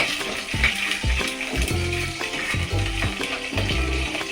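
Raisins fry in hot oil for carrot halwa, giving a steady sizzle broken by repeated scraping and stirring knocks against the pan; no talking.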